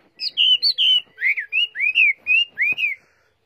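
A caged hwamei songbird sings a clear run of about ten loud, sweeping whistled notes in quick succession close by, then falls silent.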